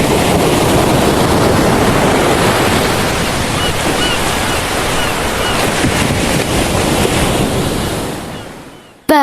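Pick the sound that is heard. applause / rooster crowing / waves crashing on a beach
waves crashing on a beach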